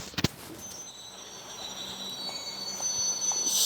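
A train pulls into a station with a steady rumble and drawn-out high wheel squeal that grows gradually louder, preceded by a brief sharp knock at the start, with no talking.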